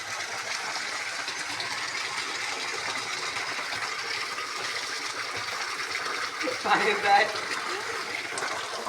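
Steady broadband rush of water flowing down a channel runs throughout, with a brief louder splash or disturbance near the end; a voice speaks faintly over it.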